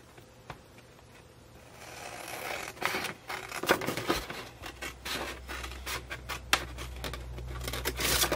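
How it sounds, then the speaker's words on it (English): Scissors snip and crunch through paper in a series of close, uneven cuts, with rustling and handling noises between them. "I'm just going to do that with the scissors."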